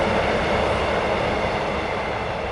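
A train rumbles past continuously, a broad steady roar of rail noise holding level throughout and fading only slightly at the end, with no talking over it.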